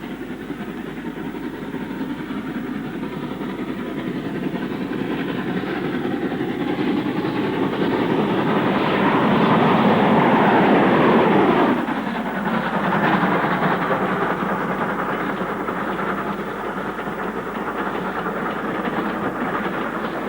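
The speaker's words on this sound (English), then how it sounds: "An 8F works the Hess Bank camping coaches away for winter storage and refurbishment." An LMS 8F steam locomotive hauls a train of camping coaches on Shap, a heavy continuous rumble swelling as it passes close, peaking midway, then easing into a steady, receding roll of wheels.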